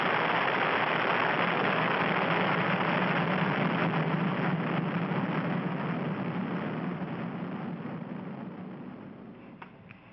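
A Delta IV Heavy rocket launch produces a broad, continuous roaring rush of noise that holds steady and then slowly fades as the vehicle climbs away, with no voices over it.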